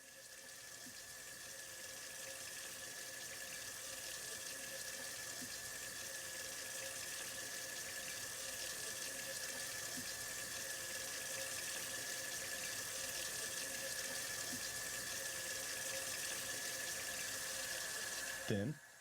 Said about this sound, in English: To wash your hands properly, wet them with clean running water, warm if available, and apply soap